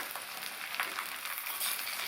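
Cut eggplant sautéing in oil in a pan gives a faint, steady sizzle with a few light crackles, alone and close.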